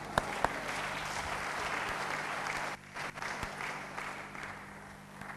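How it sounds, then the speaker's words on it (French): Audience applause fills a church meeting hall at a ministers' gathering in Cameroon, steady dense clapping from a crowd that dips briefly midway and then continues. "On applaudit pour cela."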